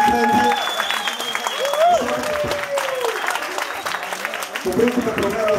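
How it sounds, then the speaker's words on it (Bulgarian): Guests at a Christmas salsa and bachata party, about eighteen people, clap together in a hall, a sustained round of applause mixed with talking and a few voices rising above it. "това заслужава аплодисменти"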